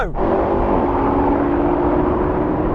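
BMW M5 engine droning hard under full acceleration in a drag race against an Audi RS6, AMG E63 and Porsche Panamera, a loud sustained roar heard from inside the car with no gear breaks.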